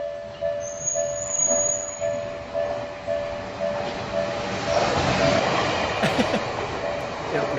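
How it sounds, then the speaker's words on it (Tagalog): A very short train runs along rails, its steady rolling rumble and clatter close by with a faint tonal whine, while people talk over it. "World's shortest train."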